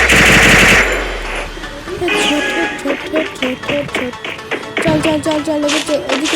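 Rapid bursts of automatic gunfire and single shots from the mobile battle game Free Fire, loud and close, with repeated sharp cracks in quick rhythm over game effects and music.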